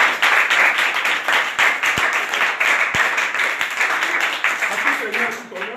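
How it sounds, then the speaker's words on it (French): A crowd of children claps and applauds loudly and continuously, with voices mixed in, tapering off at the end. "je demande aux enfants de l'applaudir"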